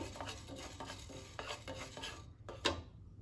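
Urad dal roasting in a pan, stirred with a rhythmic series of soft scraping and rattling strokes of a spoon against the metal, quiet and close, with a faint sizzle underneath and a final sharper clink.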